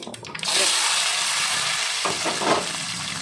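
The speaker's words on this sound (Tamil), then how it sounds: "கடுகெல்லாம் நல்லா பொரிஞ்சிருக்கு" Mustard, fenugreek and cumin seeds splutter in hot oil for a fish curry: a brief quieter start, then a loud, dense, continuous crackling sizzle close by.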